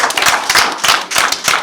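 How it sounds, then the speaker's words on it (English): A board meeting audience claps in short bursts, close and fairly loud, with a brief dip midway before the applause resumes. "Clap it up for Mr. Hoagland really quickly."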